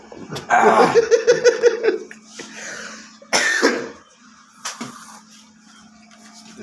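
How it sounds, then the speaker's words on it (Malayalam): A short run of light coughs, close and fairly loud, comes as a quick cluster of bursts followed by a couple of fainter single coughs, against a quiet background without talk. "അവിടെ ചെറുതായിട്ടൊന്ന് ചുമച്ചിട്ടുണ്ട്."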